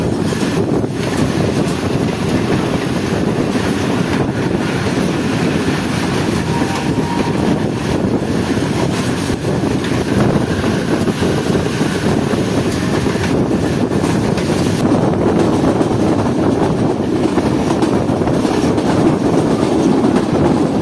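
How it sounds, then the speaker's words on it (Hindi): The Shah Hussain Express rolls through Chak Jhumra railway station without stopping, a loud, continuous rumble and clatter of wheels on track heard from onboard, with wind buffeting the microphone throughout. "इस वक्त हमारी ट्रेन स्किप कर रही है चक जुमना रेलवे स्टेशन को"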